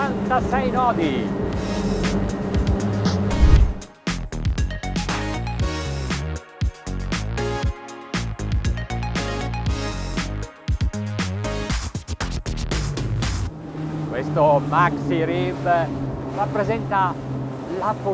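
A Ranieri Cayman 45.0 rigid inflatable boat's engine roars steadily at about 56 knots, with wind and water rush, while someone talks over it throughout.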